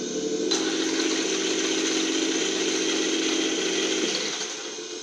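A Traxxas Slash 2WD RC truck's electric motor at low throttle gives a steady, close, buzzing whine with a mechanical rattle, holding level for a few seconds before easing off.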